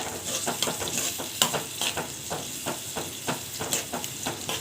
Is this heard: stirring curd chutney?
yes